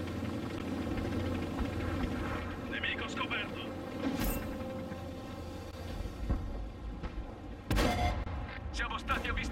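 Heavy tank cannon blasts in World of Tanks on console boom at intervals over a low engine rumble, loud and close.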